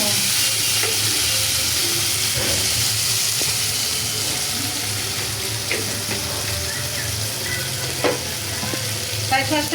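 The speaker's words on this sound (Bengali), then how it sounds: "আমার আলুটি সুন্দর করে ভাজতে নিলাম।" Potatoes fry in a pan with a loud, steady sizzle over a low hum, with a few light utensil taps scattered through.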